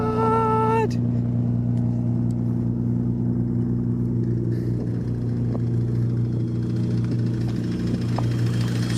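An Audi RS6 engine idles with a deep, steady burbling rumble, loud and close, after a brief rising whine at the start, with a voice speaking faintly over it.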